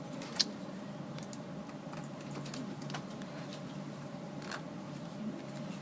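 Typing on a computer keyboard while formatting a document, a quiet steady patter of key clicks with an occasional sharper tap over low background hum.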